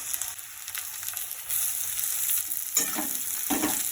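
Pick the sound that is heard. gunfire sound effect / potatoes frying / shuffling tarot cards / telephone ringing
potatoes frying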